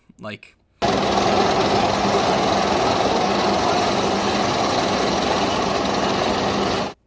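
A roller coaster train climbs its lift hill ahead of an 87-degree drop, making a steady, loud mechanical drone that runs almost unbroken for several seconds after a brief voice at the start.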